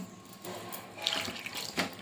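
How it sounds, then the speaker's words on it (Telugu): Water is poured into a spiced dough mixture for chapati, producing a short, close splashing trickle that swells in a couple of bursts over two seconds. "వాటర్ పోసుకొని"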